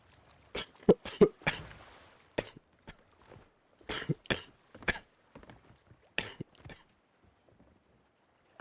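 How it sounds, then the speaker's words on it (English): A man coughs repeatedly in a quiet room, with several sharp bursts close together and then more spaced coughs and throat clearing. "Man, I'm coughing way too much."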